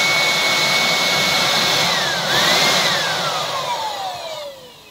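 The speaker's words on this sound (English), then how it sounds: "Now we will use a blower to make the turbine rotate." A loud electric blower whines steadily while turning a vertical wind turbine. Its pitch dips around the middle, then slides gradually downward as the airflow eases off.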